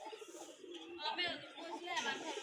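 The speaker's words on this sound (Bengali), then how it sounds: "মোট তিরিশ জোড়া দেশি কবুতর রয়েছে" Domestic deshi pigeons coo softly on a pigeon farm, low rolling calls close by, mixed with a person talking over them.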